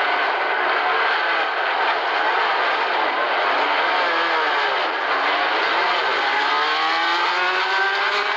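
Race cars roar past on the Le Mans circuit in 1975, a loud sustained engine wash with rising and falling pitch as cars pass, steady and unbroken throughout.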